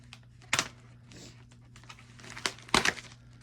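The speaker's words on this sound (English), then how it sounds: "I need to use the knife to do a little bit of cutting for the tape" A knife slices through packing tape, giving a few short crackling cuts, two louder bursts standing out near and clear over a steady low hum, with no talk.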